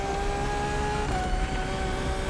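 A Lamborghini Countach accelerating in the racing game The Crew Motorfest, a loud, steady engine drone with a sustained whine that shifts slightly in pitch partway through, with no talk over it.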